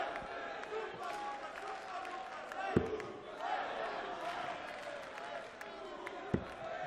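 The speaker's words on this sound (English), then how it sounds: "Super Lucas, the crowd chants" A darts crowd at the 2019 German Darts Open chants in unison through the hall, steady and reverberant, with a few sharp thuds and a commentator talking over it.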